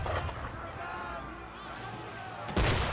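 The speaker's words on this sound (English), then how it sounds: "Why is he shooting at us?" Booming cannon fire from a hostile ship in Assassin's Creed III, a heavy blast hitting loud and close near the end after a sustained rumbling din, with voices murmuring underneath.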